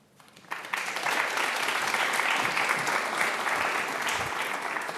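An audience at a live taping with Governor Gina Raimondo breaks into loud, dense applause that swells quickly and holds steady for several seconds, with scattered cheers mixed in.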